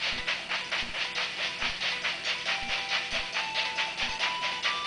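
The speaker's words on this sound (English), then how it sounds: "And bomb train incoming." The bomb train from the video game The Legend of Zelda: Spirit Tracks rolls along with a steady, repeating clickety-clack and a hissing chug, moderately quiet, with no talk over it.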